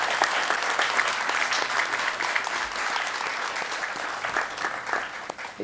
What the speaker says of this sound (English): Please applaud for our staff and our teachers.